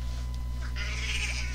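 A pet cat gives a short, faint meow over a steady indoor background hum, with no talking at that moment.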